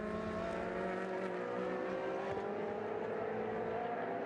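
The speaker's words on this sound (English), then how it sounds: "Dario Carzo really is driving the wheels off that 458" Ferrari 458 race car at full pace on a circuit in Istanbul during a Trofeo Pirelli round, its engine a steady, loud sustained roar with layered harmonics and no break across the whole stretch.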